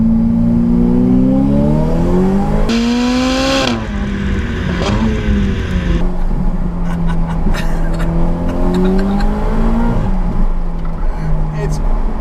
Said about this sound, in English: You've got V8, you've got turbos, all sorts, and can you hear that burble now?